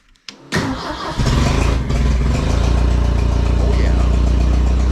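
An old engine cranks and fires up, with a few sharp clanks before catching, then settling into a loud, steady running drone close by.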